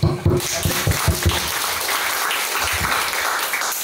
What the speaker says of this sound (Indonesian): Kamu tepuk tangan untuk Tuhan sungguh-sungguh buat Yesus.